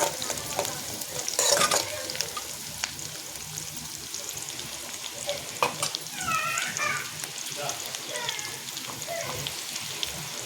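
Curry leaves frying in a pan and being stirred, giving a steady close crackle and sizzle with scraping strokes and a few sharper clatters.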